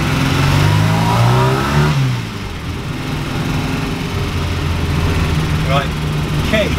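A 1969 Ford Capri's engine runs loud and steady during a test drive, revving and then easing to a lower drone, with a voice speaking over it.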